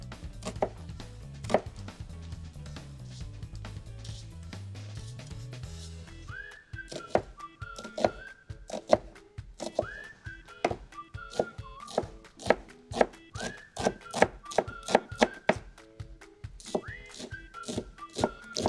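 A knife finely chops a small onion on a board, a fast run of sharp, close taps with whistled music playing over the later cutting and a low hum early on.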